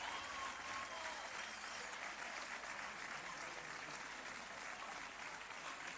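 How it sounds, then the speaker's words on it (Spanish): Sustained applause from an audience at a women's football team presentation, a steady dense wash of clapping that carries evenly from start to finish at moderate loudness, with no voices breaking through. "Un aplauso grande, grande, grande para ellas."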